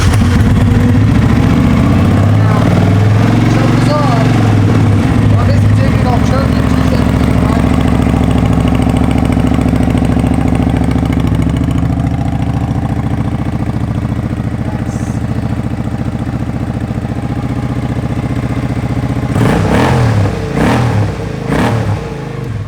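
A Kawasaki Vulcan 750 motorcycle engine starting and running, a loud, steady close-up idle with a deep rumble, a brief rev near the start and another burst of revving near the end.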